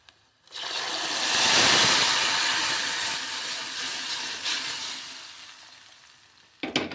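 Spiced tempering sizzles loudly as it is poured into a pot of pigeon pea dal curry with fenugreek greens, a steady hissing fry that swells and gradually tapers off.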